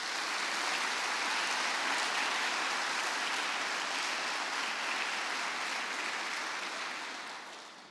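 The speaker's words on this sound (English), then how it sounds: "I would like everybody to give a round of applause to Mike Freilich and everything he has done for NASA Earth" Sustained applause from an audience at a NASA event at Stennis Space Center, dense steady clapping filling the room for about eight seconds before tapering off at the end, with no talking over it.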